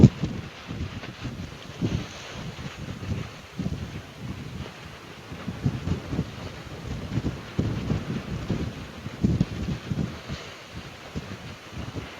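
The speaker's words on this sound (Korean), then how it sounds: "바람 엄청납니다 지금" Strong typhoon wind at a walk-in shoreline fishing spot, roaring and buffeting the microphone in continuous gusty rumbles with no pause, loud and close throughout.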